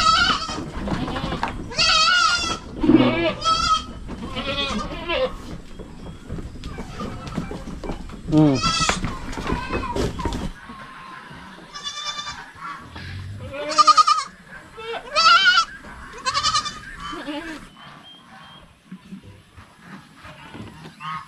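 Several goats on a farm bleat repeatedly near and loud, overlapping calls with quieter stretches between, while a person talks in between.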